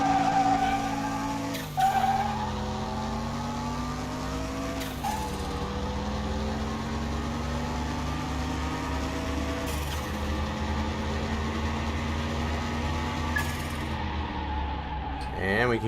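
A Z28 V8 car launches in the video game Car Mechanic Simulator 2021, its loud engine note climbing and dropping through several gear shifts with tire skid. The engine sounds up close and runs continuously, with no talking.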